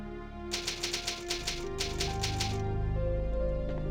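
Typewriter keys clacking in rapid bursts at the save point in Resident Evil 3: Nemesis, a close, crisp run of strikes that gives way to a low sustained musical drone, with no speech.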